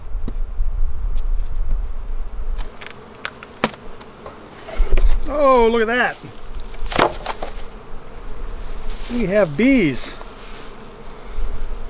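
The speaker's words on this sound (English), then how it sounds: "bees in the top box here up in the flow hive" Honeybees buzz steadily close by at a Flow Hive with a dense, humming drone. A person speaks briefly, and there are a few clicks and knocks.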